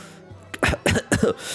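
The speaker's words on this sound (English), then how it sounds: "After hearing coughing sounds from the bedroom, the maid rushes over immediately" A man coughs three times in quick succession in a video game, loud and close, each cough a harsh rasping burst, with a faint low hum underneath.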